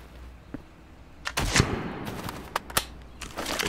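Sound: gunshots in the video game Road to Vostok

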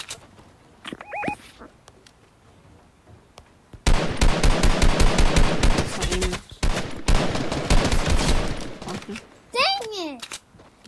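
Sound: gunfire in a multiplayer shooter video game

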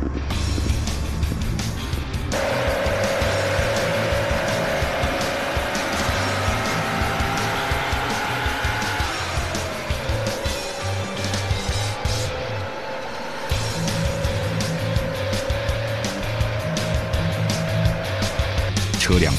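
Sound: military truck towing 20-metre trailer driving at speed

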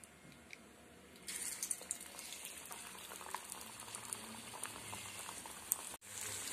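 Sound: vegetable pakora deep frying in oil

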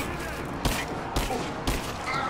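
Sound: enemy automatic rifle firing bursts in Rise of the Tomb Raider video game

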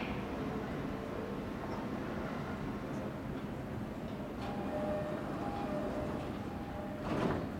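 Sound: JR East E231 train doors closing at Nishi-Funabashi

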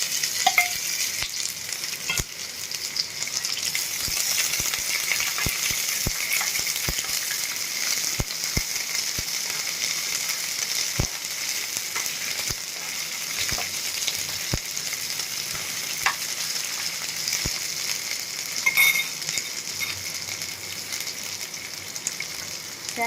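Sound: ivy gourd and chillies frying and being stirred in a pan

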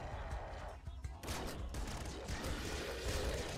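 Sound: shotgun firing in video game Nuclear Throne Ultra Mod

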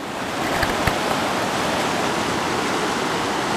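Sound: river water flowing near the bank, Quechee Gorge

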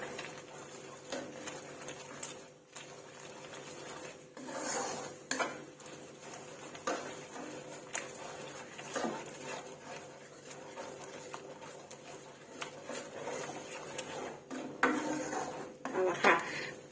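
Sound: stirring curry paste with coconut milk in a pan

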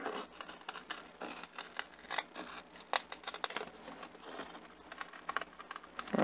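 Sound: cutting material with shears

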